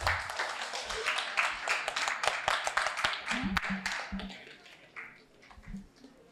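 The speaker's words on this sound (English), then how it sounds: "A round of applause, please, for them." Audience applause at a marketing and brand quiz event, a burst of many hands clapping that builds briefly then tapers off, mixed with a voice speaking near the end.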